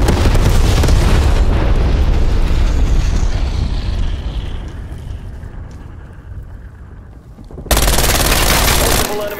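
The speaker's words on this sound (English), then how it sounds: "Sitrep, napalm strike inbound." A napalm strike pounds the ground in a video game, with loud, dense explosions and rapid gunfire-like crackling. The blasts fade into a lower rumble, then surge back hard near the end, and a voice talks briefly.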